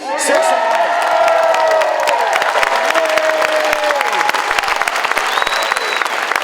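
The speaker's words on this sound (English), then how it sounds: "Give her a good round of applause, folks." A charity fundraiser auction crowd breaks into loud, close clapping mixed with whoops and high cheering shouts, continuous and energetic throughout.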